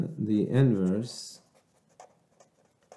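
Writing on paper during a math lesson: soft, faint scratching strokes from a pen, sparse and intermittent, following a short spoken phrase.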